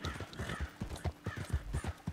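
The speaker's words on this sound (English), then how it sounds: "Wow, a real life horse." Horse hooves clip-clop in Red Dead Redemption 2, a steady run of close, fairly loud hoof strikes with no voices over them.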